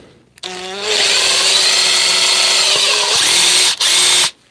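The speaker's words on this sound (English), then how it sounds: "let's drill a pilot with the other bit, because it appears to be much sharper" A power drill bores a pilot hole with a sharp bit, giving a loud, steady whine that rises as it spins up, runs about three seconds, pauses briefly and then stops.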